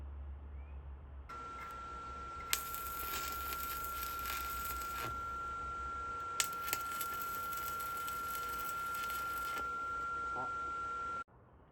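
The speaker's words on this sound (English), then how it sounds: "now I'm just gonna weld it so that we have a nice handle" Rebar being welded on as a handle for a homemade DIY well drill rig, a steady, crackling hiss that runs for about ten seconds with a faint tonal whine, then cuts off abruptly.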